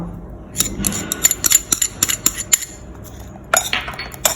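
Jicama pieces are tossed with green syrup for a Thai crisp water-chestnut-style dessert, producing irregular clinks and taps of a utensil against a bowl in short clustered bursts, with a quiet pause between them.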